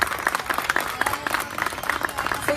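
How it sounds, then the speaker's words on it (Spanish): Audience applause in an outdoor plaza for music contest finalists, a duo with keyboards, dense steady clapping from a crowd at moderate loudness with scattered sharper claps. "Fuerte el aplauso para ellos."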